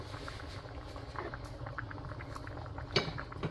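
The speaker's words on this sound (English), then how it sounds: "Alright, she's coming to the boil." A pot of corned beef, rice and beans coming to a boil gives a steady low bubbling and faint patter, with a single louder clink near the end and no talk.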